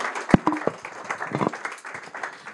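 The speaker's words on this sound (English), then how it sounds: "Give a round of applause for Stefano." Conference audience giving a brief round of applause, scattered sharp claps of moderate loudness that rise and then thin out over a couple of seconds.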